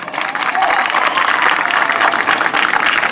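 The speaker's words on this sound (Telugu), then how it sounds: "గట్టిగా చప్పట్లు కొట్టాలి" Crowd applauding loudly and steadily at a village festival gathering, dense continuous clapping throughout with no break.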